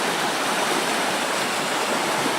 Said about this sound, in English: it goes right to the river, which is pretty turbulent right now